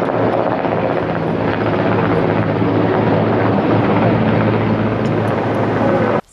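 Firefighting helicopter flying over a wildfire in northern Argeș County, heard as a loud, steady rotor and engine roar that holds without a break for about six seconds before cutting off abruptly.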